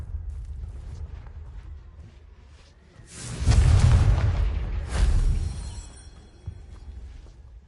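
The Confringo explosive spell in a video game goes off as a deep, booming blast that rumbles for a couple of seconds, followed by a second burst and a fading, crackling tail.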